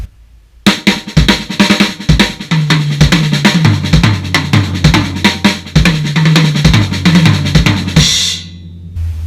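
Drum lick from a lesson on the RLRLLK sticking pattern, extended into a nine-beat triplet phrase: rapid, dense strokes in a steady triplet rhythm with bright cymbal wash, played loud and close for about eight seconds, then ringing out.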